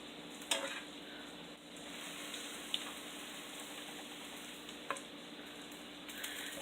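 Food sizzles steadily in a hot pan while a spatula presses down on it, a constant close frying hiss broken by a few sharp clicks of utensil on pan.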